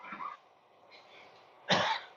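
Coughing during a breathing exercise at a spiritual retreat camp: a soft cough, a quieter rasp, then one sharper, louder cough close to the microphone, in a quiet room.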